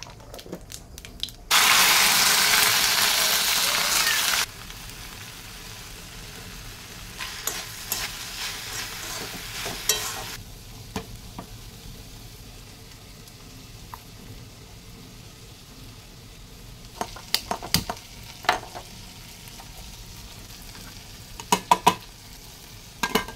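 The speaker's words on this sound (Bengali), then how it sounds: "একটু কালো জিরে ফোড়ন দেব।" Nigella (black cumin) seeds hit hot oil for tempering with a sudden loud, hissing sizzle lasting about three seconds. Quieter frying crackle follows, broken by sharp clinks and scrapes of stirring.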